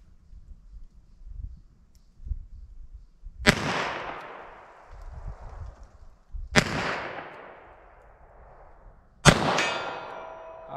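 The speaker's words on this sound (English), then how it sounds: "Let me just fire a few rounds of these." Three sharp gunshots of .38 Short Colt rounds, fired about three seconds apart, each a loud, close crack with a decaying ring, separated by quiet stretches of low background noise.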